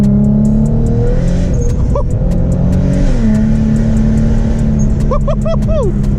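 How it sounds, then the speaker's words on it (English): A rear-mounted turbo G35 car engine with automatic transmission drones loudly and rises under boost, with a shrill whine from the wastegate and chirping pitch sweeps near the end; someone talks briefly over it. "This car screams when it hits boost."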